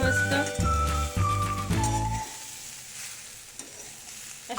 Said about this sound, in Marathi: परतून घ्यायचंय आळूवडींना.